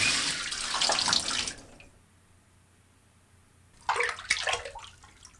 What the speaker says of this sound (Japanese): 私は、シャワーを止めて、